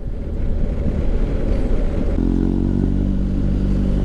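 A motorcycle with a new aftermarket Remus exhaust runs loud and close, a deep rumbling exhaust that settles into a steady throbbing idle partway through.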